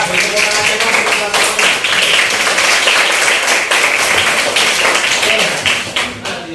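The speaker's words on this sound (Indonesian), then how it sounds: "Kita beri tepuk tangan untuk kelompok 7." A classroom group claps for group 7 during a primary-school lesson, a dense, loud, continuous patter of many hands that fades slightly toward the end, with voices mixed in.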